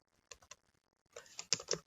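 Short bursts of keystrokes on a computer keyboard as a date is entered, a few isolated taps followed by a quicker, louder run of clicks, close up and with no voices.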